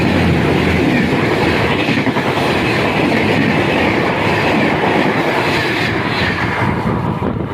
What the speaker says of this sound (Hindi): उज्जैन एक्सप्रेस जो कि चल रही है 110 की स्पीड पर, मंसूर स्किप कर रही है 7 लोकोमोटिव के साथ